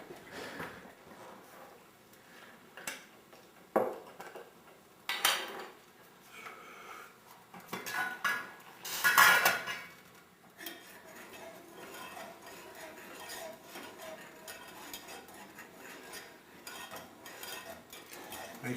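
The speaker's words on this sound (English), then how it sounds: "Make sure you're stirring your cream sauce as you go along." A utensil stirs a cream sauce made with flour and milk in a pan, soft scraping and occasional metallic clinks against the pan, quiet and intermittent with a few louder scrapes.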